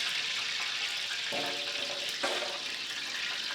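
Cooking oil and ghee heating in a bowl, with a continuous soft sizzle and two brief louder crackling bursts, alone without talk.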